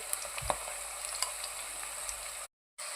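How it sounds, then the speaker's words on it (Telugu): Chopped onions and green chilies fry in oil with turmeric for a chicken curry, a faint, steady sizzle broken by a few soft stirring clicks before the sound cuts out briefly near the end. "ఉల్లిపాయ ముక్కలు మంచిగా గోల్డ్ కలర్ వచ్చినాక అల్లం వెల్లిపాయ పేస్టు వేసుకొని మంచిగా మనం పచ్చివాసన లేకుండా వేయించుకోవాలి"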